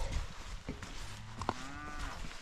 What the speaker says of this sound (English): What a life for you cows, eh? Out here in, oops, in this weather.